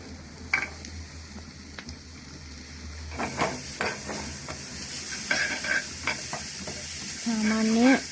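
Garlic and spices frying in a pan, with a soft hiss that builds into louder sizzling and scattered stirring clinks, close by and without talk.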